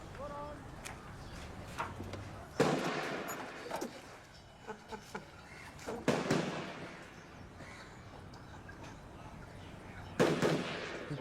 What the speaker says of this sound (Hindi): फायरिंग रेंज है, रोज होता है बंदूक।